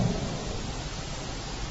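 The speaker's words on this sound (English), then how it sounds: "So here's the rain." Rain with thunder in Mumbai, India, heard as a steady, moderately loud wash of rainfall with a deep rumbling undertone, no voices present.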